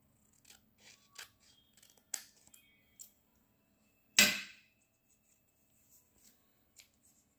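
Scissors snip through a paper circle during a children's craft activity: a handful of quiet, scattered snips and one louder, longer cut partway through, in an otherwise quiet room.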